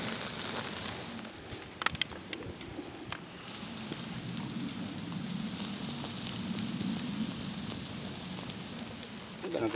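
Food charring over an open campfire flame in the Hoosier National Forest wilderness, giving a steady soft crackle and hiss with occasional sharp pops, continuous and close.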